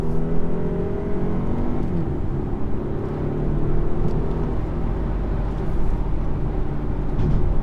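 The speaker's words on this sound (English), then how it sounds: "There's like these really, really faint burbles from the exhaust." A 2018 BMW 420i xDrive engine hums and whirs steadily while downshifting to second gear, with faint low burbles from the exhaust underneath, moderately loud and continuous.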